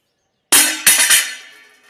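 A small tea glass or spoon struck as a sound cue for puppy conditioning, giving three sharp bright clinks in quick succession with a ringing tail that fades over about a second, close and loud with no voices.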